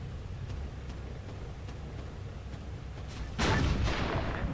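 Tank cannon firing in the Arma 3 video game: one heavy boom close by, followed by a rumbling tail, after a few seconds of low background hum and faint ticks.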